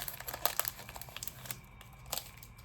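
A Final Fantasy Magic: The Gathering play booster pack wrapper is torn and crumpled open up close, making quiet, irregular bursts of crinkling and tearing.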